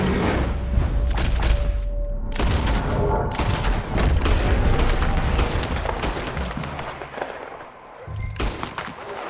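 Repeated gunshots and booming volleys from a Red Dead Redemption 2 firefight, dense and loud throughout, with heavy low thuds and crackling shots layered over a constant rumble.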